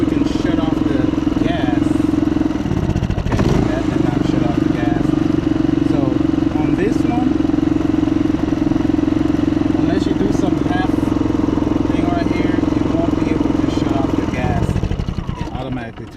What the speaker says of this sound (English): Okay, so I got the generator running on gas.